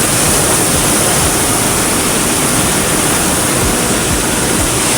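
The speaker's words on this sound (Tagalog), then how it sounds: "Naglagay na rin tayo ng tubig." Water rushes out steadily for the animals, a loud, unbroken gushing hiss that runs close by from start to finish.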